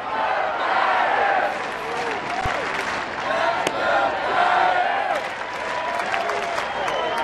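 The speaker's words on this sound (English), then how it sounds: "Now the Giants fans piping up again." San Francisco Giants fans in a baseball stadium crowd keep up a steady roar of cheering and clapping at night, loud and continuous throughout, with a broadcaster's voice faintly in the mix.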